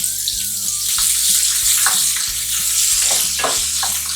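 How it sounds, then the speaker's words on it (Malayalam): Onion and curry leaves sizzle in hot oil with a loud, steady frying hiss and crackle, broken by intermittent stirring clacks of a utensil against the pan, close up and without talking. "ഈ സമയത്ത് നമുക്ക് സവാള ചേർത്ത് കൊടുക്കാം. ഇതിന്റെ കൂടെ തന്നെ നമുക്ക് കുറച്ച് കറിവേപ്പിലയും കൂടി ചേർത്ത് കൊടുക്കാം."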